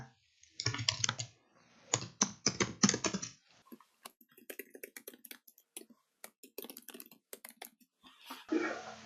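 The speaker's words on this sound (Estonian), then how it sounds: "Alustage teksti trükkimist lihtsalt vajutades hiirega sobivale kohale." Typing on a computer keyboard comes through as bursts of quick key clicks separated by short pauses, close and moderately clear, with no voices.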